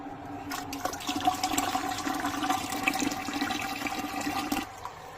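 Water pouring into a pressure cooker pot in a kitchen, a steady splashing gush that runs for several seconds at moderate, fairly close level before tapering off.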